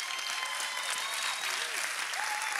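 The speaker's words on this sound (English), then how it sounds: "You don't even know what you're clapping for." A church congregation applauding together in a large hall, dense continuous clapping at steady loudness throughout, with faint voices mixed into the crowd.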